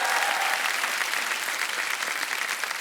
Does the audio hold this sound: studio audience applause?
yes